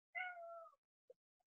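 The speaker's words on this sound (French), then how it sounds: "Mon chat veut sortir." A house cat lets out one clear, drawn-out meow close by, wanting to be let outside, followed by a couple of faint short sounds and then silence.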